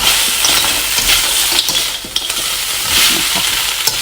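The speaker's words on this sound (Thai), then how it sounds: "เราก็ใส่ แคบหมูนะคะลงไปเลยนะคะ แล้วก็ค่อยๆตัก ช้อนขึ้นมาจากข้างล่างนะคะ" Crispy pork cracklings are stir-fried with red curry paste in a hot pan, a loud, constant sizzling hiss broken by scraping stirs of a spoon lifting the mixture from the bottom.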